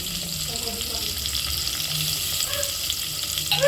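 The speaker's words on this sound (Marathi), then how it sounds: "आता आपण फोडणीमध्येच टॅमेट टाकायचं आहे" Tomatoes frying in hot tempering (phodni) of oil and spices for dal amti with drumsticks, a steady soft crackling sizzle throughout with a brief sharper hiss near the end.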